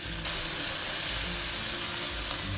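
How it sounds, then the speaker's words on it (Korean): Garlic fries in two tablespoons of oil in a pan over high heat, a loud, steady, close-up sizzle and hiss that holds without a break and with no voices. "팬에 기름 2큰술을 두르고 센 불에서 마늘을 먼저 볶아주세요"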